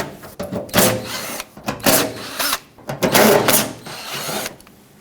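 A power tool buzzes in repeated short bursts, removing 7mm screws from a 2007-2014 Chevrolet Silverado 2500 HD fender liner, each burst close and fairly loud, with brief pauses between.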